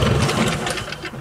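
A greenkeeper's lawn mower engine revs in a close, steady, buzzing drone, then sags and sputters toward a stall near the end.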